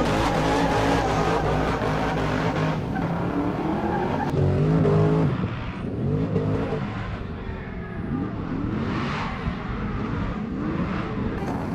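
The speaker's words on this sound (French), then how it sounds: "La E30 Touring équipée du V8 LS2." A BMW E30 Touring with a V8 LS2 engine on Sectora tyres runs on track at a drift event at Val-d'Argenton: a loud, continuous engine roar with tyre squeal and skidding that eases slightly partway through, with no talk.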